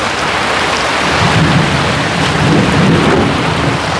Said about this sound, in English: I'll show you what the pool is like as it's raining